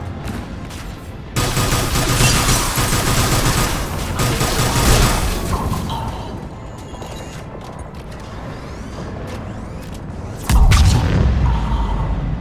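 Cannons fire in Mass Effect 3 battle, heavy booming volleys and rapid blasts rolling across the scene, loud and dense at first, easing off, then a sharp close burst near the end.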